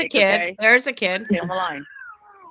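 A recorded emergency phone call carries urgent talk, then a thin rising cry like an angry cat trails off faintly at the end.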